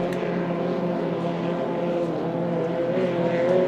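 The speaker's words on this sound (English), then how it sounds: "Doesn't sound like it's revving as hard as the other boats." Racing boat engines drone steadily across Lake Eppalock during the 2025 Eppalock Cup, a continuous, fairly distant hum with a slowly shifting pitch and no voices.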